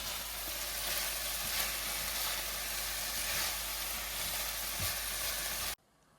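Okra sizzles steadily in a hot pan, a loud, continuous frying hiss with faint stirring scrapes that stops abruptly near the end.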